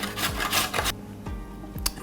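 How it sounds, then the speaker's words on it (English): Carrots rubbed over a grater give close, rhythmic rasping strokes, several quick scrapes followed by slower, spaced passes, with no talking. "So now we want to grate up a couple of carrots."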